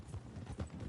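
Horse hooves clip-clopping in the video game Red Dead Online, a quick run of close, steady hoofbeats with no clear whinny, no talk.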